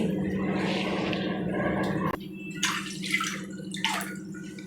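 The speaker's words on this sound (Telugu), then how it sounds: "ఇలా ఒక టూ గ్లాస్ వాటర్ వేసుకుంటున్నాను అండి" Two glasses of water pour into a cooking pot in a home kitchen, a steady splashing stream that cuts off sharply partway, followed by a few brief clinks and sloshes.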